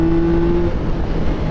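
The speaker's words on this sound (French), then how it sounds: "On entend déjà très bien l'échappement d'où on est hein" Yamaha MT-09 motorcycle exhaust running steadily nearby, a loud continuous low engine rumble with a held tone, no voices over it.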